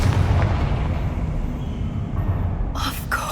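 Loud fiery explosion from the Confringo spell in the video game Hogwarts Legacy, a deep rolling boom that rumbles on for a few seconds before a brief crackle of sharper sounds at the end.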